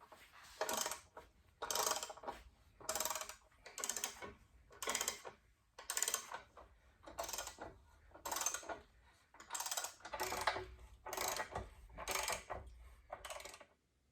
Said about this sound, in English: So I'm going to take these 3 nuts there, just screw them on there loosely